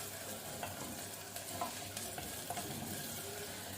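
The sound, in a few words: onion cooking in a clay pot over low heat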